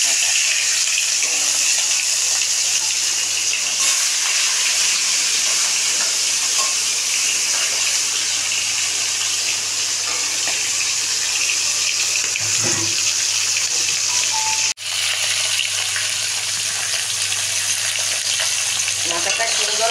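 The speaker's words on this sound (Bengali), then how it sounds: "মাছের মাথায় নুন হলুদ মাখানো হলো, এবার আমি মাথাটা ভাজবো" A fish head rubbed with salt and turmeric sizzles in hot oil, a continuous loud crackling hiss with a faint low hum beneath and an occasional clink.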